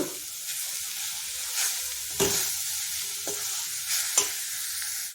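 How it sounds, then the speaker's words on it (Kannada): Spices such as garam masala, pav bhaji masala and chaat masala frying in a pan with green chillies, giving a steady close sizzle broken by a few sharp stirring scrapes and clinks, with no talking. "ಇದಿಷ್ಟು ಹಾಕ್ಕೊಂಡು ಸ್ವಲ್ಪ ಹುರಿಯೋಣ"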